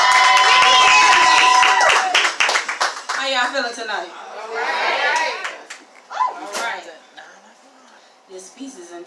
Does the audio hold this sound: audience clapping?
yes